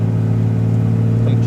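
A stock-tuned second-generation Cummins 24-valve diesel pickup pulls at full throttle, its engine droning loud and steady throughout with a deep, even rumble and no break.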